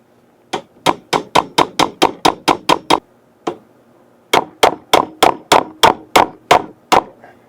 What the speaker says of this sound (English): Okay, I've got my rods tapped in now